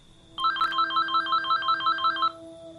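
A mobile phone ringtone rings out as a steady run of repeated electronic beeping tones for about two seconds, then stops, over a low background hum.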